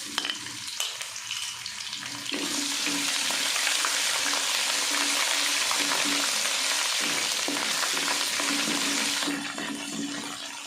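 Ginger and garlic paste hits hot oil with whole spices in a pan for aloo masala, bursting into a loud, steady hiss and sizzle that continues for several seconds before easing slightly.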